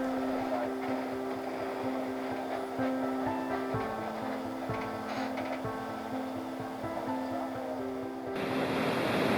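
A steady, broad roar of rushing water from Niagara Falls fills the scene, constant and fairly loud, with faint tonal hum beneath and the roar swelling near the end.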